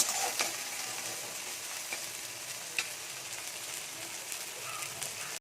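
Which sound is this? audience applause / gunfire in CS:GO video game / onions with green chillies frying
onions with green chillies frying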